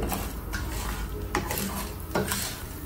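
Three kinds of dal are stirred and fried in oil for lemon rice: a soft sizzle under a few distinct metallic clinks and scrapes of a spoon on the pot, and no one speaks.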